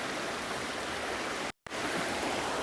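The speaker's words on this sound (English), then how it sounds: "The lake's so overflooded it became a river." Broad rushing of floodwater from an overflowing lake turned into a river, steady and loud like a stream, briefly cutting out for a moment before resuming.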